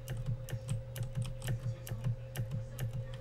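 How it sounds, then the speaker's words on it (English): Rapid, steady clicking of a computer keyboard being typed on close by, the keystrokes falling in an uneven rhythm over a low constant hum. "you guys can hear my clickings. All my keyboard clicks."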